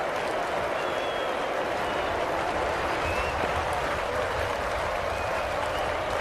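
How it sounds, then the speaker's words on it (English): Cricket crowd at a South Africa versus England match applauding and cheering, a steady dense roar of clapping and voices sustained throughout at moderate distance. "Crowd are loving it"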